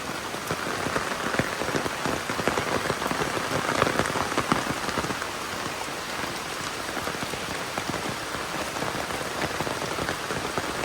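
Heavy monsoon rain pours steadily beside a village pond, a dense, continuous patter of drops striking surfaces, loud and unbroken with no voices.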